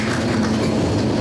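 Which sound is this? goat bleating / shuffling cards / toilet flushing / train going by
train going by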